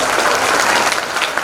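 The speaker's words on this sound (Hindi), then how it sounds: "एक बार फिर से तालियां बजा दीजिए" A crowd at a Janmashtami performance in a Pune auditorium bursts into dense, loud, sustained applause, many hands clapping at once without a break.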